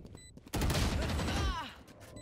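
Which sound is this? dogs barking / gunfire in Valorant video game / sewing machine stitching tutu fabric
gunfire in Valorant video game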